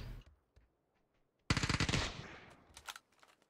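Vector submachine gun with an extended magazine firing in a video game: a sudden loud burst of rapid automatic shots after near silence, then a few scattered follow-up shots that trail off.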